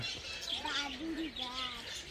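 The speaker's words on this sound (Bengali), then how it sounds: "বাজুরিগার" A pet budgerigar at a zoo gives brief high chirps and warbling tweets, soft and somewhat distant, heard over quiet background noise.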